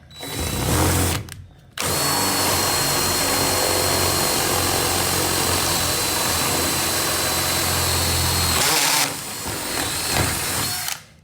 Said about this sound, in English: let's see about drilling this hole now